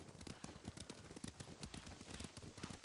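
Horse hooves clip-clop in the video game Ghost of Tsushima, a quick, steady run of close hoof beats with a low rumble beneath, continuing throughout.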